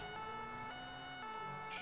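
Police siren in the GTA V game, a steady, sustained electronic siren wail that stays fairly faint and continuous throughout, with no voices over it.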